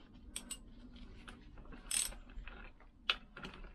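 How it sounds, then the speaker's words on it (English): A Lambretta scooter gearbox, oily and just reassembled with parts finger-tightened, is turned by hand, giving soft irregular mechanical clicks and ratcheting ticks with a few sharper clacks, close up and quiet, with no talking. "Make sure it turns freely, gearbox is turning freely."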